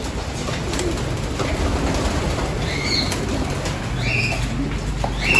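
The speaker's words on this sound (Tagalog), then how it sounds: "Nagkakagulo na kagad yung mga kalapate namin, mga kalapatids." Pigeons in a loft coo repeatedly and flap their wings in bursts, close and loud over a steady rustle of many birds moving about.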